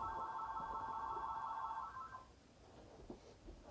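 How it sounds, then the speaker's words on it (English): A telephone rings with a steady electronic trill for about two seconds and then stops, leaving faint room noise afterward. "the phone is ringing right before my intro, or my exit"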